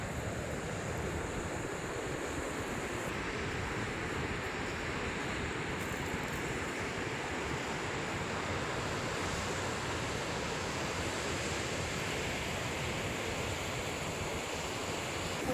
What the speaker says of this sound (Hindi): हमारे गांव में आप लोगों को हर जगह चश्मे का पानी नज़र आएगा